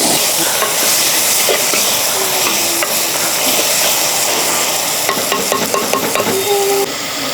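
Pounded onion paste sizzles loudly in a pan while being stirred for a brinjal masala with garden chillies. The hiss is dense and continuous, with scraping stirs and small clinks close by and no voices.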